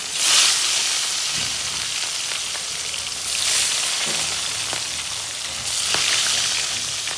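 Fish fries in hot oil with a loud, dense, continuous sizzle that swells in a few bursts, along with faint scattered pops and clicks from the pan.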